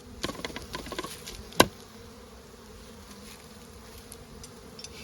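Honey bees buzz in an opened hive during a colony inspection, a steady close droning hum with a few louder individual passes and a sharp click near the start.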